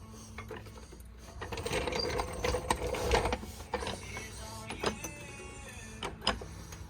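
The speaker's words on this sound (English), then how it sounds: "So let me jack this jack up," Jack being ratcheted up under the front suspension of a 2014-or-later Ford F-150 or Expedition during strut replacement, a rapid series of close mechanical clicks and clunks in irregular bursts, with no talking.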